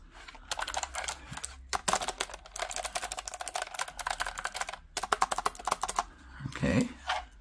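Rapid clattering keystrokes on a Redragon K652 75% wireless RGB mechanical keyboard, typed in close bursts with brief pauses between runs and a soft low thump near the end.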